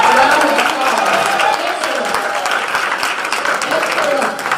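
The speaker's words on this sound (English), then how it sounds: "Let's give our scholars a round of applause." Audience applause for scholars at a town hall panel, a steady dense clapping that holds loud and even throughout.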